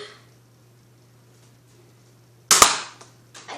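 A Nerf gun fires at a Pepsi bottle: one sharp, loud snap with a brief rattle right after, then a fainter knock near the end, set against a quiet background hum.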